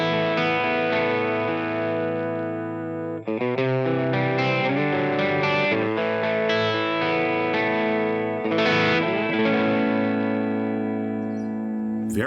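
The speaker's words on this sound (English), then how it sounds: "Very subtle modulation, that sounds cool." An electric guitar runs through the Retro Reel modulation effect on a Line 6 HX Stomp, playing sustained chords and single notes with a subtle wavering shimmer and a tape-like echo. The playing is loud and continuous, with no talking.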